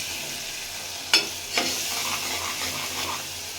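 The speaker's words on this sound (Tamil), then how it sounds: "தேவையான உப்பு சேர்த்து வச்சு நல்லா கலந்து விட்டுக்கலாம்" Onions and tomatoes with spices and salt frying in a pan for wheat rava upma. Two distinct scrapes of a spoon stirring ring out over a steady close sizzle, with no voices.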